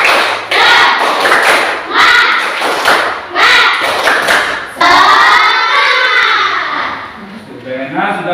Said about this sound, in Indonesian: Kalau lemes sekarang, tepuk semangat dulu.